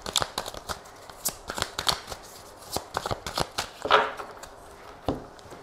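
Oracle cards being shuffled and cut by hand for a reading: quick papery riffles and soft slaps in uneven bursts, close and fairly quiet, with no talking.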